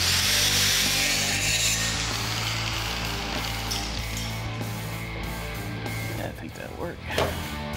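A power saw cuts a metal cab support section to length during underbody rust repair on a 1971 Chevy C10 pickup, a loud steady grinding whine that fades and shifts near the end while someone talks over it.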